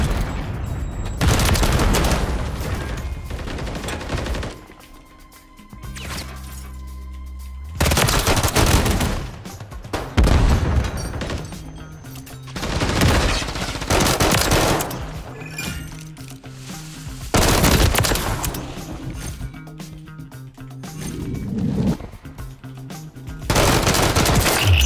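Rapid bursts of shotgun and other gunfire in a video game, loud volleys repeating in clusters with short quiet gaps and a few booms in between.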